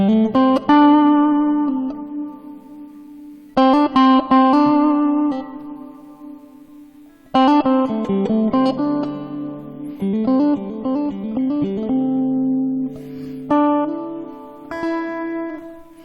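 Clean electric guitar phrases ring out with wide vibrato and slides, each note sustaining into a long reverb tail, played alone in short bursts.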